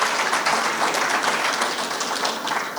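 Dense, steady applause from an audience at a startup fair, many hands clapping evenly and fairly close, with no voices over it.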